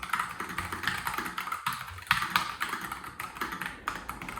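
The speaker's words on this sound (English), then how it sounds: "As a mechanical keyboard, it has that classic clicky clacky sound," Steady, fast typing on a clicky mechanical keyboard, with crisp overlapping key clacks heard up close and continuously.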